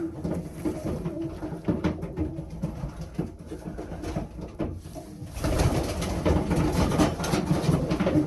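Several male tiger pigeons coo close by in a loft, with a low, repeated throaty murmur, and a burst of flapping and scuffling swells up loudly near the end as a bird struggles in hand.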